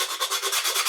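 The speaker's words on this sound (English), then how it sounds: "So just sand off the edges until it's nice and smooth." Quick rhythmic rasping of 80-grit sandpaper on a sanding block rubbed back and forth on wood edges, loud and close, strokes repeating steadily with no voices.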